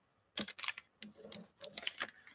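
Paper scraps for a junk journal being trimmed in several quick bursts of crisp cutting and rustling, close up and fairly loud, with short pauses between strokes.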